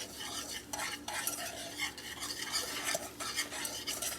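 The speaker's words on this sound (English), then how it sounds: "I'm just going to whisk just a little bit to get our sugar incorporated" A whisk scrapes briskly and continuously through sugar and brown sugar in a pan, giving a close, busy metallic swishing and clinking.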